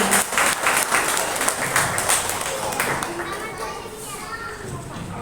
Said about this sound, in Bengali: তো এটার জন্য একটা খুব জোর দিয়ে হাততালি।